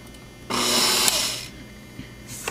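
An electric mixer beats butter and sugar for chocolate mint cookie dough in a single loud whirring burst of about one second. A fainter clatter follows.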